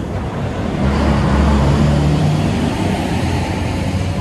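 Steady low rumble of a city bus engine heard from inside the moving bus in Australia, a loud continuous drone with road noise and no talking.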